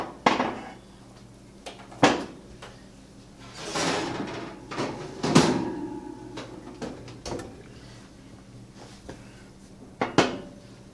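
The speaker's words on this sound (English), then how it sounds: "So we're going to take our pie out of the oven." A homemade blackberry cream pie coming out of a kitchen oven: a sharp metallic clunk of the oven door and rack, then softer knocks, scrapes and a final rattle of the pan, close and intermittent.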